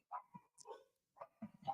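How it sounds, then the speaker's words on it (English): A dog barks in a few short, sharp yips and bow-wows, moderately close, with quiet gaps between the bursts. "Crazy dog."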